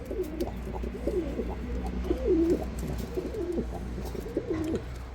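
A crested silver pigeon coos inside a coop, repeating soft rolling calls in a steady series of about half a dozen phrases, close and clear over quiet background noise.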